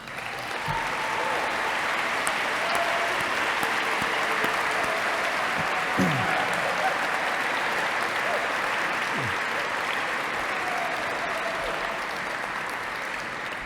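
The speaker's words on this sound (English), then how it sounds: "let's all give them a round of applause" A dinner audience at the Greenway Trust gathering gives board members and advisors a sustained, even round of applause lasting over thirteen seconds, dense and full with no talking.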